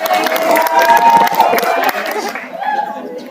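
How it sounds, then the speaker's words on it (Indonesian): Students at an Indonesian vocational school anti-brawling and anti-bullying outreach event clap and cheer together, a loud crowd roar with shouting voices that thins out toward the end. "Tepuk tangan buat PGRI"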